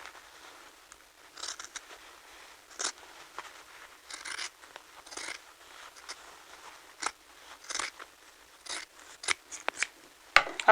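Scissors snip and cut through fabric while a sewing garment is trimmed, a run of close, crisp crunching cuts in an irregular rhythm, fairly quiet with no talking.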